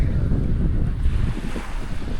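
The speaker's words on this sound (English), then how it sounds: "And here we are in front of the reef at Cocoa Beach." Ocean waves breaking at the reef off Cocoa Beach, Playa del Carmen, a loud steady roar of surf mixed with heavy wind rumbling on the microphone.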